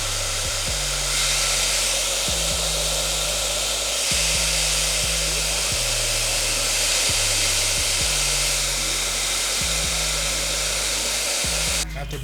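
A hair dryer blows steadily on its cold setting, close and constant, with a low motor hum and airy rush, broken by regular faint clicks or bumps every second or so as it's moved around the hair.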